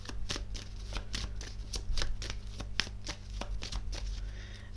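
Tarot cards being shuffled by hand, a quick run of crisp riffling slaps in an uneven rhythm, close up over a low steady background hum, no talking.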